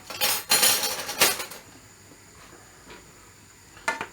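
Metal forks and spoons clink together in a kitchen beside a pasta dish, with a few bright bursts of jangling cutlery close by, then a quiet gap before one last clatter.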